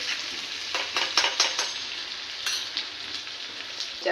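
Hot tadka tempering poured over pav bhaji vegetables in a pan, a bright continuous sizzle with crackling bursts and spoon stirring, close and loud.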